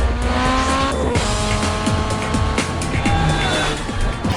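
Race car engine from the Need for Speed video game, revving and roaring steadily with sharp tire squeals and skids cutting in, loud and continuous throughout.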